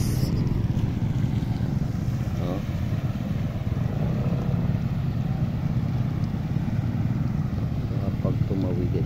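Motorboat engines drone steadily on a flooded river with a strong current, a continuous near rumble with faint sputtering, under a steady wash of moving water and wind.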